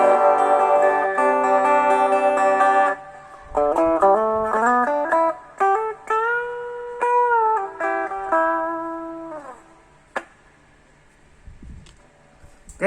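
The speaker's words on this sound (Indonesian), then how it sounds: "Udah kedengaran ya, ada gembanya. Berarti sudah normal, ini sudah beres." Electric guitar played through a Neunaber Immerse Reverberator pedal on its spring reverb setting after a no-power repair: sustained chords and melodic bends ring out with a lush, washy tail, then fade to a quiet decay near the end.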